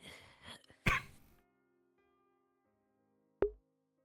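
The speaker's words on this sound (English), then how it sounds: "She's coughing up blood and something else" A single harsh cough from someone coughing up blood, close and fairly loud, followed by quiet and then a sharp brief clunk.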